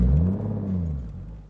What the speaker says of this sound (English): Just kept driving around, getting the car under a little bit of load, barely quarter throttle at max